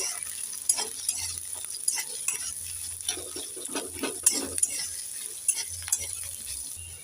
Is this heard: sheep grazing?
no